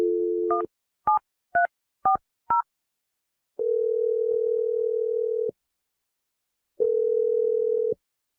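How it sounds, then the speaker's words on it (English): A telephone keypad dials a number with five short two-tone DTMF beeps, after a brief dial tone, then two long steady ringback tones sound with silent gaps, all clear and alone with no talking. "Let's dial the number right now."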